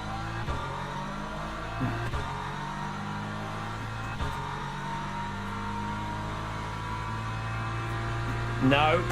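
LMP3 prototype race cars in the Le Mans Ultimate sim racing game drone in a steady engine hum, with a rising rev near the end and faint bumps over the continuous note.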